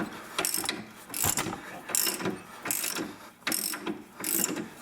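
A ratchet wrench loosens the track bar bolt on a Ford 8.8 axle, producing close, repeated bursts of rapid clicking in an even rhythm of about five pull strokes, with no talking.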